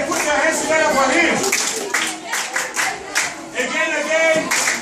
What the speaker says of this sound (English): put your hands together for him